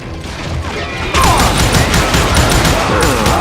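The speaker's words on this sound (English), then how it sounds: "Watch where you're shooting." Rapid gunfire in a video game, a loud, close burst of repeated shots that starts abruptly partway through and keeps a fast, even rhythm to the end.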